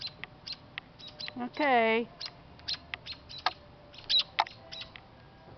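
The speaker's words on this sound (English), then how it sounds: "Yeah, they're trying to dive bomb me. And they are the noisiest things." Robins dive-bombing a person, giving sharp, scattered chirps and calls near the microphone, with one brief word spoken softly.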